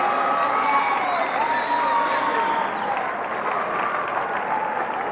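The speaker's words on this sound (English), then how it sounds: "the Hawaiians give a cheer" Hawaii women's volleyball team cheering together in a huddle after winning the 1983 NCAA championship match against UCLA, a steady roar of crowd applause and cheering in an arena, with whistles and commentator talk over it.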